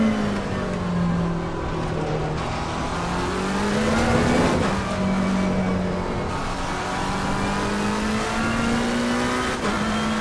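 A race car engine in Assetto Corsa Competizione, loud and close, holding a steady droning pitch that rises, drops sharply at a gear change, then climbs again.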